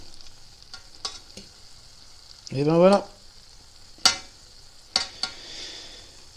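Tunisian yoyo doughnuts fry in oil heated to about 170–175 °C, giving a faint, steady sizzle broken by a few sharp utensil clicks and a brief tonal squeak. A voice speaks briefly.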